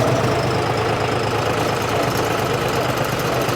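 A John Deere tractor engine runs steadily throughout, a continuous loud mechanical drone with a slight knocking texture, close by and with no voices.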